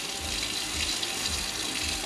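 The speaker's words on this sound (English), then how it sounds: "Just running water to make sure the electrics are working." Water runs steadily from a tap into a sink in a new shop being fitted out, a constant close rushing hiss with no voices.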